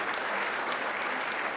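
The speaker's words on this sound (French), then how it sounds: "je demande à cette assemblée de t'applaudir" A brief burst of dense audience applause from an assembly at a centenary event, steady and uniform throughout, with no speech.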